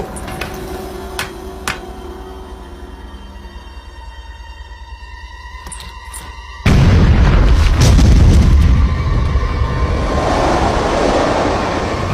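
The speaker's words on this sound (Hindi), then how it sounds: "उड़ा दो इस चट्टान को।" Cartoon explosion blowing up a rock: a sudden loud boom at about 6.7 seconds gives way to a sustained roaring rumble that slowly fades, following a quieter stretch of musical tones and small hits.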